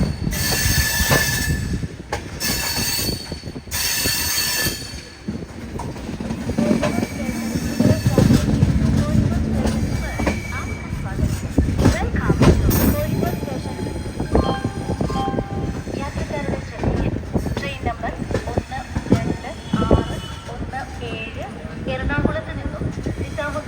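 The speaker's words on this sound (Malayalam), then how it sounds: "കോഴിക്കോട് റെയിൽവേ സ്റ്റേഷനിലേക്ക് ഇതാ നമ്മുടെ ട്രെയിൻ എത്തിക്കൊണ്ടിരിക്കുകയാണ്" The Mangala Lakshadweep Superfast Express, running from Ernakulam to Nizamuddin, pulls into Kozhikode railway station with a loud, sustained rumble and squealing wheels, while a person talks over it throughout.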